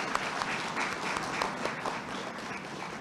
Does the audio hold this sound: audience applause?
yes